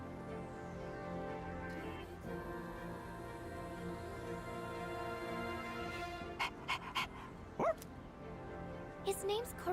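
A small dog in Persona 3 Reload pants and gives short yips and soft barks near the end, over a steady game music bed with sustained tones, with in-game character talk around it.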